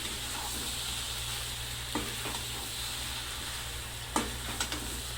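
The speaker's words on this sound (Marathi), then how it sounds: "आता ह्याला परतून घेते 10 मिनिटं मी" Potato bhaji sizzles steadily while being sautéed in a pan on a gas stove, a continuous close frying hiss with a few soft spoon scrapes and taps as it is stirred.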